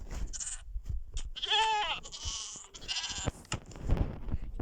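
Goats bleat repeatedly in Minecraft, several wavering cries overlapping with clicks and shuffling noises, loud and close.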